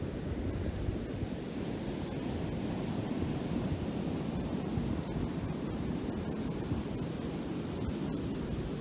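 Steady ocean surf washes ashore in a continuous broad rushing roar with no distinct breaks between waves, evenly loud throughout and without any voices.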